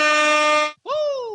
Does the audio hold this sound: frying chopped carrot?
no